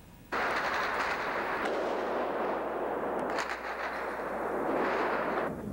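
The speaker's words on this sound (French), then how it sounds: "Un caméraman dans une rue de Sarajevo qui filme des échanges de coups de feu." Sustained broadband roar of gunfire in a Sarajevo street during the war, dense and continuous with a few sharper cracks, steady and loud throughout with no voices.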